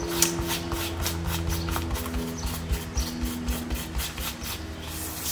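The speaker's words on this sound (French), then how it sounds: "Je vais juste enlever la colle pour pas que ça fasse une trop grosse épaisseur après." Wet blue glue being rubbed off paper, a quick repeated scratchy rubbing in short strokes, close and moderately loud with no speech.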